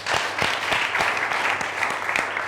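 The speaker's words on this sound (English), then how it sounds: "A round of applause for them." An audience applauds a group of children's parliament members, a dense and lively burst of many hands clapping together at close range with no break.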